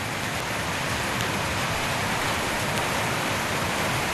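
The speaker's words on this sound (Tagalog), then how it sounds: "Kanina pa umuulan." Steady heavy rain falling during a storm, a dense continuous hiss of drops close by with no voices.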